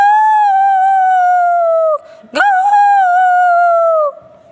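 A boy imitates a dog with his voice, giving two long, loud, wavering howl-like calls separated by a short gasp, close to the listener with no other talk.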